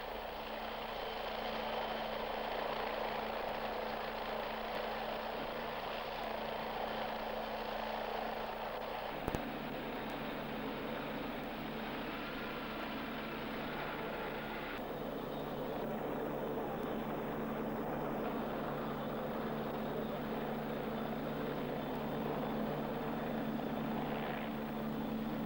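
A BO-105 helicopter idling at a forward operating location during refuelling and rearming, a steady, loud rotor and turbine drone with constant tonal hum holding for the whole stretch.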